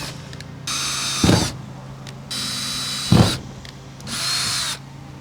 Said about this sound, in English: Poke the pilot holes with this small drill bit.